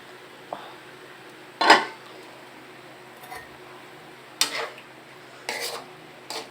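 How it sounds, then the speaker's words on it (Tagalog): Metal clanks of a lid being set onto a cooking pot, a few sharp separate hits over a quiet background hum. "So mga kapatid, takpan muna natin ulit"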